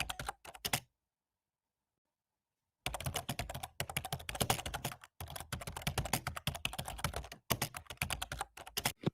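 Fast typing on a computer keyboard plays back from a recorded video, dense bursts of clicking keys in long runs broken by a silent gap and brief pauses, close and loud with no voices.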